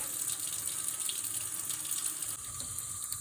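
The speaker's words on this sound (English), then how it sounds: "I'm going to turn on the water, and I'm going to turn it on hot." Hot water running steadily from a sink tap, a close, even rushing splash with no voices.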